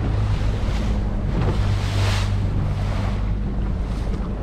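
A small fishing boat's outboard motor idles steadily on open water, a continuous low drone mixed with wind buffeting the microphone and lapping waves.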